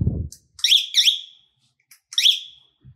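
A Coban 311 GPS tracker alarm sounds after power is connected, giving three loud chirping electronic bursts in two quick pairs and a single, with a short low thump at the start and no talk.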